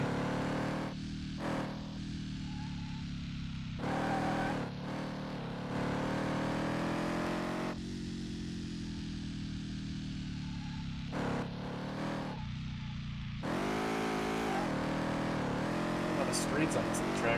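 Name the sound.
truck engine driving in video game Car Mechanic Simulator 2018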